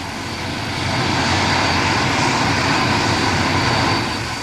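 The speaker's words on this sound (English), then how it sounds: "with Whittle's new engine, it flew." A loud, steady roar of a Whittle jet engine on an aircraft taking off swells and holds, then eases slightly, close and unbroken.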